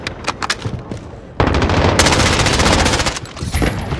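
Sustained automatic gunfire from a Modern Warfare Domination match on the Crash map, with sparse scattered shots at first, then a dense, loud unbroken burst of rapid fire with booming hits, close and dominant.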